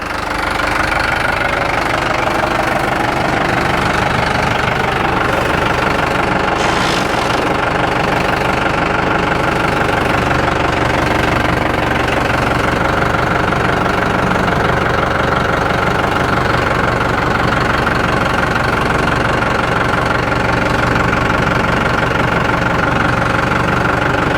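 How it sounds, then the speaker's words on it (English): A tractor engine idles with a loud, steady, knocking rumble while the machine backs up during fence post replacement, running continuously and close with no talking over it. "let's back the tractor up a little bit"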